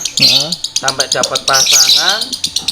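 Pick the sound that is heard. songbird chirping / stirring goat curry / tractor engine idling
songbird chirping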